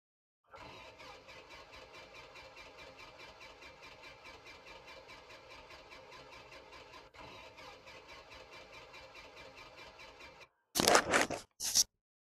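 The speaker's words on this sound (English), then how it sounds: "Engine one is flooded, so make sure to lean, max throttle, and crank the engine." Ten seconds of steady, even engine cranking from a Super Cub in the flight simulator X-Plane 11 with a flooded engine, the starter whirring without catching, followed by a short loud burst of other sound near the end.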